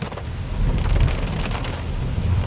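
Rain falls on a BYD Yuan Plus electric car while it is driving, a dense, steady hiss over a low road rumble that stays fairly loud throughout.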